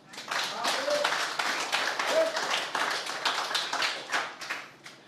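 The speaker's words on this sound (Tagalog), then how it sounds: "Lahat ng binhi pumalakpak." A church congregation breaks into steady clapping, many hands together in a dense, moderately loud patter with a few voices and shouts over it.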